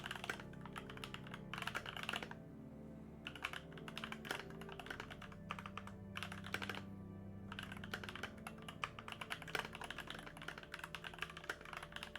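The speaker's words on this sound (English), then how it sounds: "Sorry, my Clickety keyboard clack, is quite clickety loud." Loud, clicky computer keyboard typing, close up, in fast irregular bursts of keystrokes broken by short pauses, with no talking.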